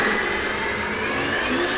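A hillclimb race car's Firestorm engine roars loud and close in a sustained, high-pitched howl at a British Championship hillclimb at Prescott, with no talk over it.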